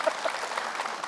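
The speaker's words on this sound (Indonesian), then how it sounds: "Tepuk tangan Ibu." Audience applause at an Indonesian religious gathering, a short steady burst of clapping from many hands, fairly close and even, with faint crowd noise.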